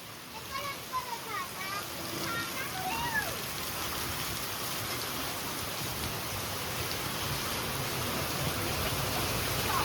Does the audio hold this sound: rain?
yes